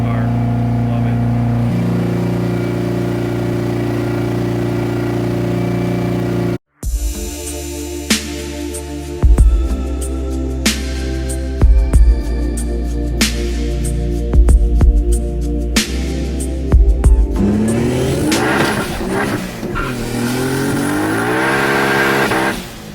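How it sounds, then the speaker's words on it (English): Mazda RX-7 FD rotary engine idling, then revved hard in repeated sharp bursts with crackling, loud and close, ending in a sustained high rev. "So while Carla's running her car, I got my car idling around there right now"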